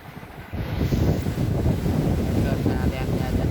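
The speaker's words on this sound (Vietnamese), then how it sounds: "hơn cái máy lạnh, hơn cái tủ lạnh, quá gió à" Strong wind gusting over the open sea near a hut under construction offshore, a loud continuous roar buffeting the microphone with low rumbling, rising sharply after a brief quieter start and holding steady throughout.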